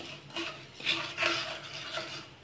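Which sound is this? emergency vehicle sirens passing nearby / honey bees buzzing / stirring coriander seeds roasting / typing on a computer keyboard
stirring coriander seeds roasting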